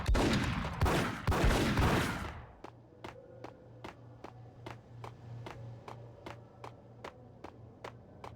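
Enemy gunfire in the Max Payne video game: a dense burst of overlapping shots for about two seconds, then a steady run of single sharp cracks at a regular rhythm over a low humming drone.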